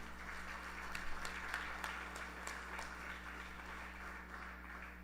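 Congregation at a Krishna Mandir anniversary service gives a round of applause, a soft, somewhat distant patter of clapping with a few sharper claps, over a constant low hum.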